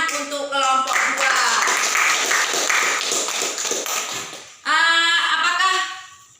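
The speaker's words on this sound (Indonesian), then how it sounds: "kita beri tepuk tangan untuk kelompok 2." A school class claps for a student group, a burst of scattered hand clapping that runs under a teacher's talking and then stops abruptly, after which speech carries on alone.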